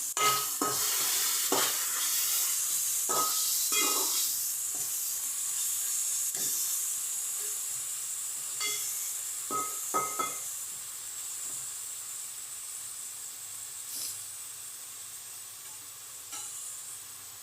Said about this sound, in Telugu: మొత్తం అన్నీ వెజిటబుల్స్ అన్నీ ఇలా వేగాలండి